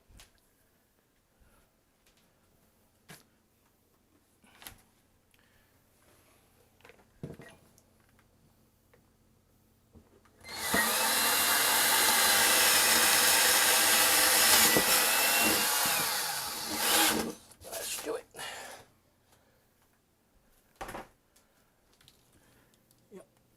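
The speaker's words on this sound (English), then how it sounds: "drill a hole in the counter" A power drill whirs steadily for about six seconds, drilling a hole in a counter, loud and close, with scattered clicks and handling noises before and after.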